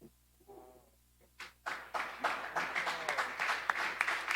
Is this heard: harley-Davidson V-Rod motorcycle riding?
no